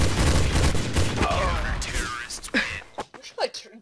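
A burst of rapid gunfire in the game Counter-Strike: Source rattles loudly at the start, then fades as game sounds and voices take over, ending in scattered sharper bangs.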